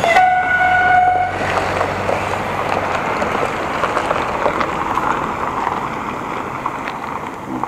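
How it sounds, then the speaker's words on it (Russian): An electric commuter train rumbles past nearby with a steady broad roar, preceded by a brief high tonal whine, continuing for several seconds without speech, beside a picnic and camping area in Ashe, Sochi. "Вот ну, пошла электричка."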